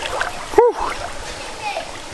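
Water sloshes and laps in a lazy river fed by a small waterfall in the Northern Territory of Australia, with one sharp splash partway through over soft flowing water. A voice exclaims briefly.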